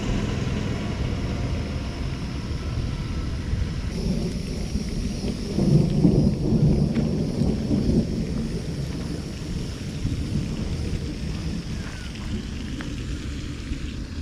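Thunderstorm at a fishing spot: steady heavy rain hiss with deep rolling thunder building in the middle and rumbling on, loud and continuous, no talking.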